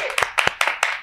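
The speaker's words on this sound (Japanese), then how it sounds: "拍手ですね" Several people clapping in a quick, evenly spaced run of sharp claps, about five in a second, close and clear.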